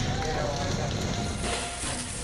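Fire burning through the second-floor hall of the RRI radio office in Jember, East Java, a steady broadband roar with faint crackle, heard continuously throughout and filling the foreground.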